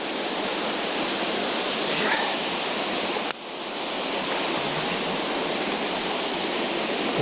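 Steady roar of Arwin Falls waterfall pouring over big mossy rocks into the river, a broad, constant rush close by, interrupted by a brief sharp knock midway before the flow noise continues.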